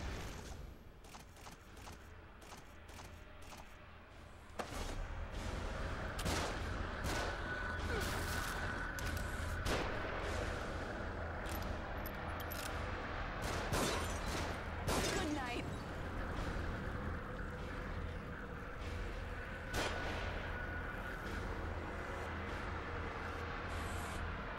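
Gunfire from above in the video game The Evil Within: repeated sharp shots and impacts of varying strength strike through a steady low rumble of game ambience, mid-distance and fairly loud across the whole span.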